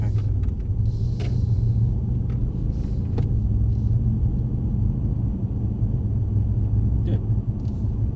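A Mercedes-AMG car drives on a track with a steady low engine rumble and road drone heard from inside the cabin, holding a constant close hum, with faint voices briefly present.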